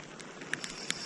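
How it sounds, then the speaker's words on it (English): Rain falling steadily at night on a Cornish shoreline during bass lure fishing, a soft continuous hiss with a few sharper drops or taps standing out, fairly faint overall. "it's raining more"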